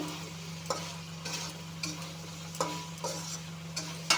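Potatoes and soybean chunks frying in oil while a utensil stirs them, for a vegetarian aloo soybean dum: a steady low sizzle with periodic scraping strokes every second or so, close and moderately quiet, no voices.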